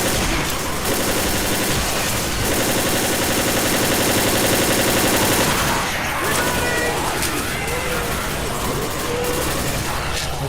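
Sustained automatic gunfire rattles loud and rapid in Left 4 Dead, pausing briefly before a second long burst, then giving way to scattered shots and game noise.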